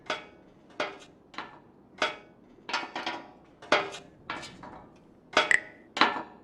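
Sharp, separate metallic knocks and scrapes as a screw is pried loose by hand in the game Frequency Missing, about a dozen evenly spaced clicks and clanks, close and clear with no talk.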